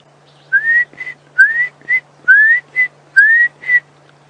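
A Klaas's cuckoo repeats a clear, rising whistled call in paired phrases, four rounds in a steady rhythm, with a low hum underneath, at sunrise on an African safari drive by a riverbed.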